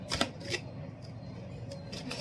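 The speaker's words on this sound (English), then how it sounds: "I'm going to pull a card here." Tarot cards shuffled and pulled during a monthly reading, giving quick papery riffles and slaps in short bursts, close and fairly soft, with no talk over them.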